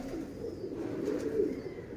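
A round-loft flying pigeon cooing softly, a faint low throaty coo rising and falling over steady background noise, with no talking.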